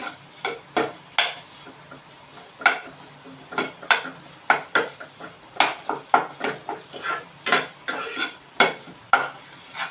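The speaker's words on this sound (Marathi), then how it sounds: "चवीनुसार मीठ घालूया मिक्स करूया" A spoon scrapes and clinks around a pan as salted fasting-style masala dosa filling with crushed peanuts is mixed, in brisk, uneven repeated strokes, close and fairly loud with no one talking.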